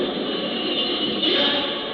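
A subway train rolling through an underground station, a loud continuous rumble and hiss of wheels and cars that swells briefly near the end, with no talk over it.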